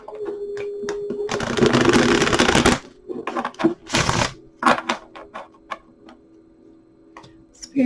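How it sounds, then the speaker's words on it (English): A tarot card deck riffled and shuffled in a long burst, then several shorter flicks and taps of cards, fairly close and with no talking. "Give it a good shuffle for you guys."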